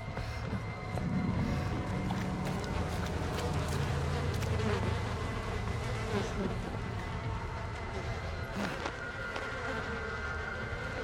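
Flies buzz steadily and loudly in the horror video game Outlast 2, a continuous droning hum over low rumbling game ambience, with no speech.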